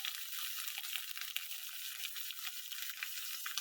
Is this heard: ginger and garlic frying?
yes